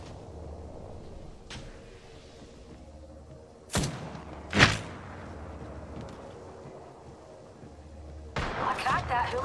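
Gunfire in the Apex Legends video game, heard as a few sharp, separate shots. A rapid, rattling burst follows at the end over low game ambience.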